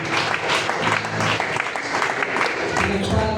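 A church congregation claps together in a dense, steady burst of applause filling the room, with a voice talking over it at the same time.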